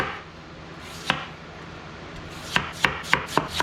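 A knife slices an onion into round discs on a board, one sharp chop early, then a quick run of four or five crisp, evenly spaced cuts close up.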